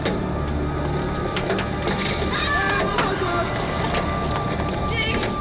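Large hailstones pound a car during a hailstorm in a steady, dense roar of hard impacts, with sharper cracks now and then. Frightened voices are heard close by inside the vehicle.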